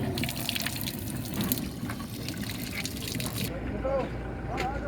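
Water from the Bir Rawah well in a desert valley flowing steadily with a continuous splashing rush, loud and close, the tone shifting near the end as the stream changes.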